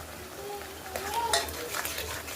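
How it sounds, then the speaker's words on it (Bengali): Garlic-onion paste with salt sautéing in a pan, a soft low sizzle with scraping spoon strokes and light clinks from stirring, close but quiet. "লবণটা দিয়ে ভালো করে যতক্ষণ না রসুন পেঁয়াজের গন্ধ যাবে ততক্ষণ একটু কষাবো"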